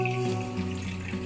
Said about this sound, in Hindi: 20 मिनट के बाद आपको इस तरह से पानी को छान लेना है चावल से।